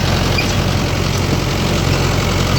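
A Mahindra Yuvo 575 tractor running in low gear drives a 42-blade rotavator through a field, its engine a loud, steady, close diesel drone with no pauses and no talk.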